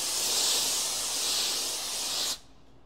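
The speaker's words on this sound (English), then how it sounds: "Steaming a top." A Laurastar Izzi Plus garment steamer blasts steam onto a top, a loud continuous close-up hiss lasting over two seconds before cutting off abruptly.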